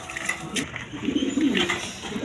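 A pair of imported German Beauty pigeons coo in soft, throaty bursts, close and continuous, with some background chatter of other birds.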